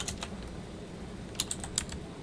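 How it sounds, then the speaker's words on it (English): Light clicks of typing on a computer keyboard, a few scattered keystrokes with sharper taps near the end, close over a low background hum. "That's because I'm typing"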